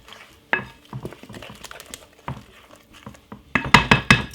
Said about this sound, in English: Simple, give it a stir.